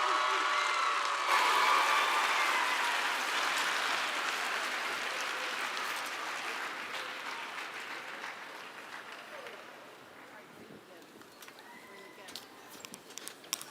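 An audience at a 4-H general assembly applauds after a guest speaker, a dense wash of clapping that starts loud and slowly thins out and fades, with a few scattered claps lingering at the end.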